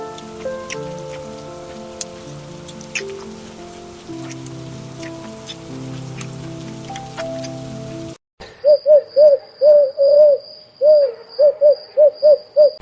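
Rain falls in a Hindi cartoon about a roadside pakora cart vendor, a steady patter with scattered drop ticks under a music bed for about eight seconds before cutting to a run of rhythmic hooting calls.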